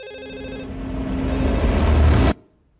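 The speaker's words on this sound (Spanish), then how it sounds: "El teléfono está sonando." A cartoon telephone rings in one sustained, steadily swelling electric bell tone that cuts off abruptly, heard alone with no speech.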